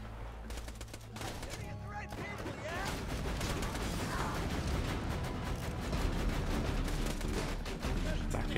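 Sustained automatic turret gunfire rattles through a dense Borderlands 2 firefight, loud rapid bursts layered with explosions and game noise running for the whole stretch, with a player's voice faintly under the din.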